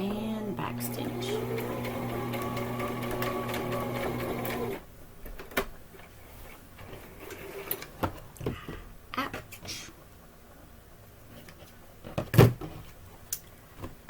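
A sewing machine runs a back stitch in a steady, humming burst of about five seconds, then stops. Scattered clicks, taps and rustling of fabric and handling follow in a quiet room.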